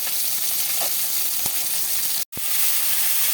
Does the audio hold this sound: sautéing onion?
yes